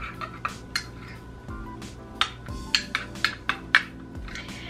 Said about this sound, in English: I'm just gonna mix this up